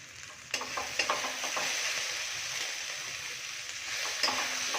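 Boal catfish pieces stirred in a pan with salt, chili powder and chopped chilies, a steady close sizzle of frying with scraping stirring strokes, no talk.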